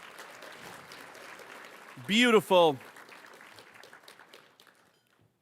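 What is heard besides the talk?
audience applause at gala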